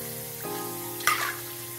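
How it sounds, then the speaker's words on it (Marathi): Potato pieces for upvas chivda sizzle steadily in hot oil, with a brighter crackling burst partway through as more pieces hit the oil. "अशा प्रकारे सगळं तळून घेऊया. बटाटा पीस आहे हा."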